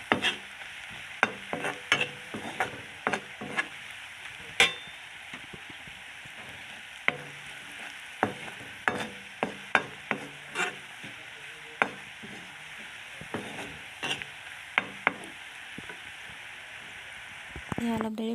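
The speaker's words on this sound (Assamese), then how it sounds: "তেলতে অলপ দেৰি ভাজি ল'ম।" Spices and turmeric frying in hot oil in a pan, a soft steady sizzle punctuated by repeated sharp scrapes and taps of a spoon stirring, quiet and close with no speech.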